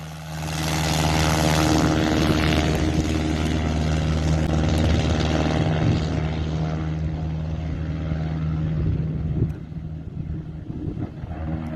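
Amphibious propeller plane taking off from a dock, its engine roaring loud and close at a sustained drone, then slowly fading as it moves away.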